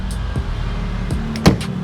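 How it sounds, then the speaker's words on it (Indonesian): Door of a 1960s Mercedes-Benz W108 280S under body restoration being shut; a few solid thuds, with one firmer, louder close near the end, heard up close with no talking. "ditutup tuh suaranya gini pintunya"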